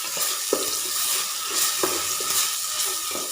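Ground ginger, garlic and green chili paste sizzles in a hot pan for an egg biriyani, a steady bright hiss with a few soft stirring clacks, close and alone.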